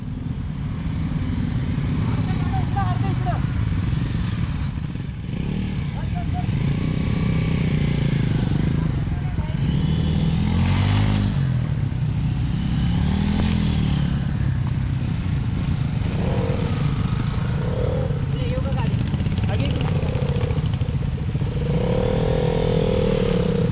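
Several N160 motorcycles ride together on a slippery route to an abandoned plane site near Lonavala, a steady loud engine drone running throughout with people talking over it.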